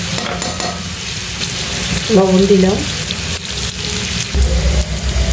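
Onions, garlic, green chili and turmeric frying in a pan, a steady crackling sizzle with stirring scrapes, close and fairly loud, while a voice speaks briefly over it.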